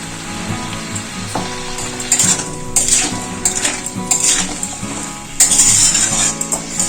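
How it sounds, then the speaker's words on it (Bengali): Cauliflower and potato pieces fry in a pan with a continuous sizzle, while a utensil scrapes and clinks against the metal in irregular bursts, close and moderately loud. "ফুলকপি আলু একটু হালকা করে ভেজে নিলাম"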